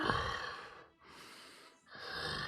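A voice imitating a demon breathing heavily, two long, rasping breaths separated by short pauses, close and fairly quiet.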